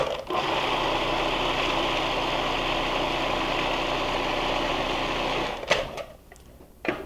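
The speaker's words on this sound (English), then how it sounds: "Scrape down the sides and process everything back through." A food processor runs steadily while blending muhammara, a loud continuous motor whir with a grinding churn, close and alone for several seconds before cutting off with a few clunks and rattles.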